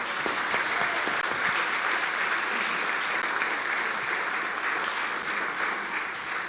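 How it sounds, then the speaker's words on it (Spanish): A church congregation applauds during a service, a sustained wash of many hands clapping evenly for several seconds at moderate distance. "Damos un aplauso por la vida de nuestros hermanos"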